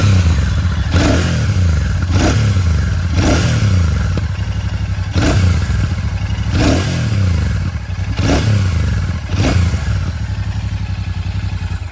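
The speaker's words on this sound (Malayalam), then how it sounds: "ഇതിൻ്റെ എക്സോസ്റ്റ് നോട്ട് ഇവിടെ ഒന്ന് കേൾപ്പിച്ചു തരാം കേട്ടോ" A 2024 Royal Enfield Shotgun 650 motorcycle idles loudly up close while the throttle is blipped about nine times in a steady rhythm, each rev rising and falling back to a thumping exhaust note, with no speech.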